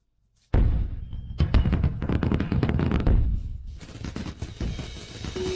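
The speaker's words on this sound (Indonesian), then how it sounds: "Ini adalah kembang api yang indah." Fireworks bursting in a rapid, dense volley after a silent start, loud and continuous crackling pops layered over one another with no voices.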